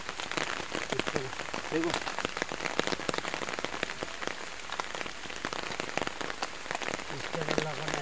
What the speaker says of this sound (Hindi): बारिश बहुत ज़ोर से हो रही है